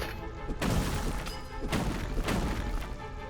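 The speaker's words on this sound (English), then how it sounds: "the sound of critting a barrel kinda reminds me of the explosion sound in ActRaiser" Critical hits on a barrel in the video game Wizordum land as a series of heavy, crunching thuds and crash-like bursts, like small explosions, spread over a few seconds.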